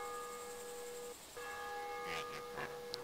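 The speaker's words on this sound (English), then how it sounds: "Church bell going again." Church bell ringing in the video game DayZ, sustained bright tones tolling steadily with a brief gap, then resuming under faint rustling and soft movement noises.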